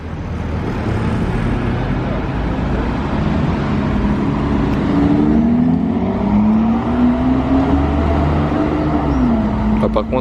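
An Aston Martin supercar drives past on a Monaco street with its exhaust valves closed, a muted engine tone rising and falling over steady traffic noise, moderately near.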